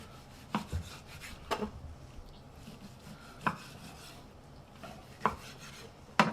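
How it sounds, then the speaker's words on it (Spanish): Knife strikes on a cutting board while bluefin tuna cheeks are cut into medium pieces, a handful of sharp, separate chops spaced a second or so apart, close and clear with no talking. "vamos a trocearlas en trozos ni demasiado grandes ni demasiado pequeños"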